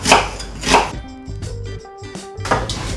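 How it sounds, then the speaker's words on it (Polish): A knife dices an onion on a cutting board while leek and ground-meat soup is being prepared, giving a few sharp, close chops at the start and end with a quieter stretch between. "Teraz pokroję cebulę. Cebulę pokroję w kostkę."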